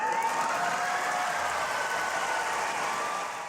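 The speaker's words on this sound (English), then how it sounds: "You hear the crowd?" A debate audience cheers and applauds Kamala Harris, a dense continuous wash of clapping and crowd noise that holds steady and tapers slightly at the end.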